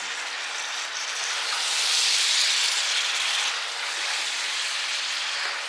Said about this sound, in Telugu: ఈ ఆయిల్లోనే బాగా ఫ్రై అవ్వాలండి, బాగా